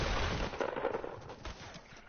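Dense burst of rapid gunfire and blasts from a shooter video game, loud and continuous, rattling with overlapping shots throughout.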